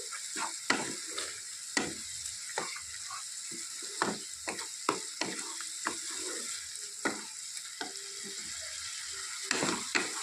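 Spices for a fish curry being stirred in a pan over medium heat, a soft sizzle broken by repeated scraping strokes of the spoon at an irregular pace, close and alone without talk.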